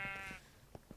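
Pixel-art farming game sheep bleating in a short burst, a clear wavering call up front followed by a few softer, shorter bleats trailing off.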